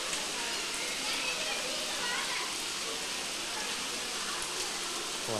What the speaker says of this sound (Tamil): சீக்கிரம் ஓடியாங்கம்மா, மழையில் நனையாதீங்க ப்ளீஸ்.